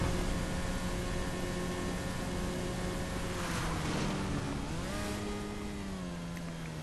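Motorcycle engine in GTA V during a transform race, a steady droning hum that dips and rises in pitch midway, continuous and fairly loud with no talk.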